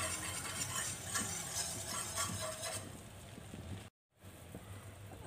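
Flour cooking in a pan over a low flame for white sauce, stirred steadily, with a soft continuous scraping and faint sizzle close by, then a brief cut to silence near the end.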